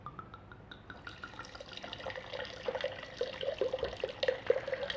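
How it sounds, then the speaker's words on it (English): Red wine pouring from a bottle into a glass, a gurgling liquid stream that starts thin and swells into a steady, louder glugging pour near the microphone. "when you're pouring red wine, a little bit of air in it does help"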